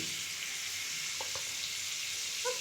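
Oil sizzles quietly in a pan while Pakistani chicken is cooked with butter. A steady, faint hiss runs throughout with a couple of small taps and pops, and no one talks.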